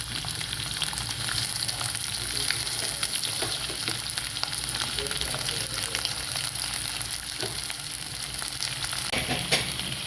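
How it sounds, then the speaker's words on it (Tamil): Green chillies and radish fry in oil in a pan for a radish chutney, giving a dense continuous crackling sizzle with steady spattering pops and occasional stirring scrapes, close and even throughout. "பச்சை மிளகாய், முள்ளங்கி எடுத்து வச்ச எல்லா பொருளும் நல்லா ஃப்ரை பண்ணுங்க"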